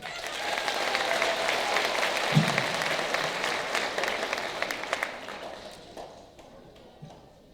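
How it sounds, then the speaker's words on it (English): Steady applause from an audience at a middle school moving-up ceremony fills the space, a dense wash of clapping that holds for several seconds before thinning out near the end. "Please, a round of applause for Greta Kratzer."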